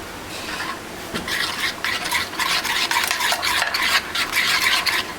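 A spoon whisks a batter of yogurt, water, egg, salt and garlic paste in a bowl, brisk rhythmic clicking and sloshing that quickens after the first second and runs steadily, close and fairly loud.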